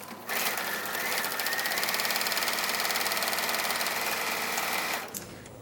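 A sewing machine runs steadily for about five seconds, stitching across the bottom of repurposed, turned-inside-out clothing, with a loud even mechanical whir that starts and stops abruptly and has no talk over it.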